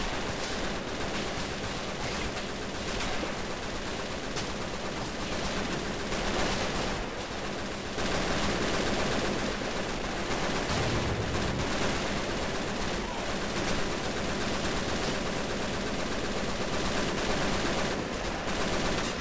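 MG42 machine gun fire in a World War II battle game as Russian infantry assault a German supply base, sustained rapid bursts mixed with distant gunfire, loud and steady throughout.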